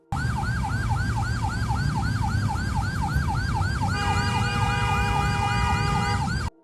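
A loud, wailing ambulance siren cycles steadily up and down in an Indonesian traffic jam as a military convoy pushes through, joined midway by a second steady tone, over a low rumble of traffic.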